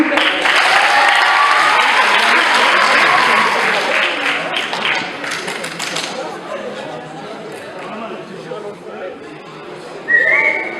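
An audience applauds and whistles after a slam poetry performance at the Red Slam Club, with dense, loud clapping that thins out over time, scattered chatter, and a sharp whistle near the end.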